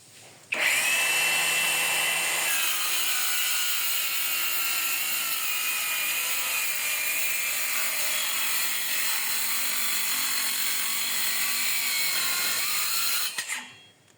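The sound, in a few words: MOLLAR cordless circular saw cutting Meranti board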